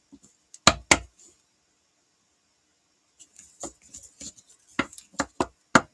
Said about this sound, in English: These are interesting to shuffle.